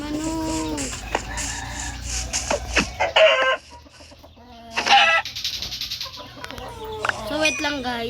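Chickens and a rooster cluck and crow nearby, with repeated squawking calls and a crow rising and falling in pitch over a low background hum, loud and close.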